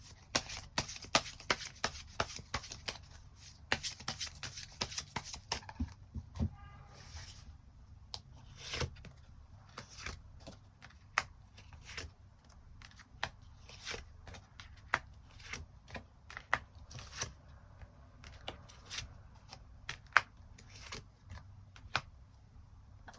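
Tarot cards being shuffled by hand to draw an extra card in a love reading: a dense burst of riffling for the first few seconds, then scattered soft card taps and slides, close and fairly quiet, with no talking.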